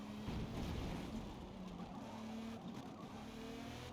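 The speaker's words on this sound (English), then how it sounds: "The Audi Quattro." An Audi Quattro rally car in a Forza racing game drones steadily at a distance, its engine hum and tire noise continuous and fairly faint for a few seconds with no talk.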